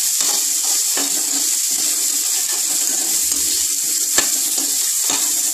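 Green gram and red chillies sauté in a hot pan with a steady, close sizzle and faint stirring scrapes throughout, no voices.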